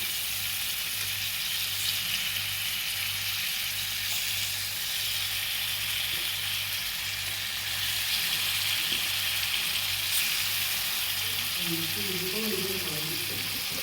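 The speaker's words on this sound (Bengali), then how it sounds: "এখন আমি একটা একটা করে মাছ দিয়ে দেব।" Moderate sizzle of hilsa fish frying in a spicy paste, a continuous crackling hiss with a faint low hum underneath.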